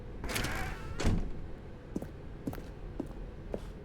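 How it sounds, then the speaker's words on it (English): A door in The Stanley Parable video game opens with a sliding thunk, followed by a few soft, quiet knocks and footsteps spaced across the moment, with no talking. "Stanley walked through the red door."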